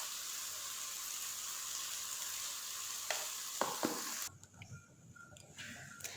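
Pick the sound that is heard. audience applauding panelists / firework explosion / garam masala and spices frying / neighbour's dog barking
garam masala and spices frying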